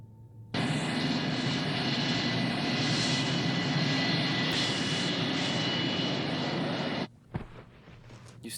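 A fixed-wing airliner's engines drone steadily inside the cabin before takeoff, a loud, even, broadband roar that starts abruptly and holds for several seconds before cutting off.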